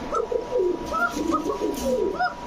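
Pigeons cooing close by, blue bar German Blazer birds among other fancy breeds such as red and yellow Gorra, with repeated soft throaty coos overlapping in a steady stream, a few brief chirps rising above them.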